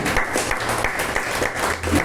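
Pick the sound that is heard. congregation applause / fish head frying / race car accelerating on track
congregation applause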